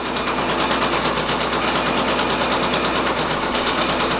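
A Brother Persona embroidery machine stitches blue thread, a fast steady mechanical chatter of rapid needle strokes running close and loud without a break.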